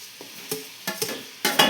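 Tomatoes being stirred in a frying pan, with a soft sizzle under a few scraping strokes of a spoon against the pan, irregular and close.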